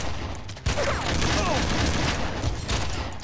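Shotgun fire in the video game Red Faction comes as a loud burst of blasts with dense gunfire noise filling most of the clip, and a voice is heard faintly underneath.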